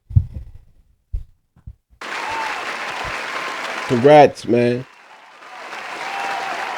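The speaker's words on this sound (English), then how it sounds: "So let's give Drew Brees a round of applause." A burst of audience applause for quarterback Drew Brees begins abruptly after a quiet moment with faint thumps, continuing steadily while someone speaks briefly over it.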